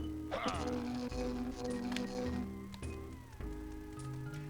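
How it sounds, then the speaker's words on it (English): A cat at a window meows insistently, with a few drawn-out cries close by and at moderate loudness. Light rain taps in the background and faint sounds from a game mix in. "there's a cat stuck to my window. I'm sure you can hear him"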